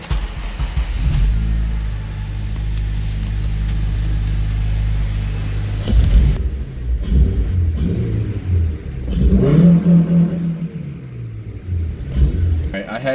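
An 8th generation Honda Civic Si with a Skunk2 Alpha header and a fresh tune rumbles at a steady high idle, then revs in a few rising bursts, with someone talking partway through.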